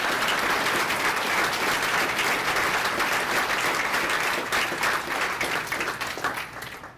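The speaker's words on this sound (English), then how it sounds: "So please give a big round of applause for Jerry and Elaine." Loud, sustained applause from a large crowd at a county chamber of commerce gathering, steady dense clapping that holds for several seconds before tapering slightly at the end.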